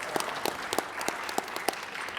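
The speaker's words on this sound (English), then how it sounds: "but yes, let's clap for that." Conference audience applauding, a dense steady patter of many hands with a few crisp nearby claps popping out at irregular intervals over a couple of seconds.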